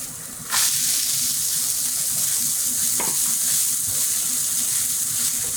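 Spring roll vegetables stir-fry in a hot pan, a steady loud sizzle after a brief quiet start, with a couple of scraping stirs breaking through and no voices.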